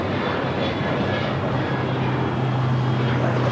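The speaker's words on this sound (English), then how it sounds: "That was Alaska Airlines 1342 taking off to Los Cabos on the 737-800" Alaska Airlines Boeing 737-800 taking off from Los Angeles International Airport, a steady broadband jet engine roar that holds loud and constant throughout, with a low droning tone building toward the end.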